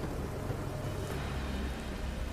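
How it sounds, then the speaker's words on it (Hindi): Steady rain falling at night, a dense, even hiss of drops with no gaps, moderately quiet and alone for a couple of seconds, with no voices. "बारिश लगातार बरस रही थी।"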